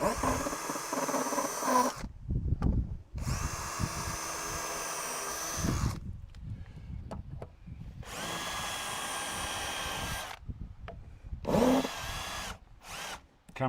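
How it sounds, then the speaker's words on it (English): Power drill driving screws into wood for a garden project, several loud bursts of whirring a second or two long separated by short pauses, close up with no talk. "I'm going to put all the screws in."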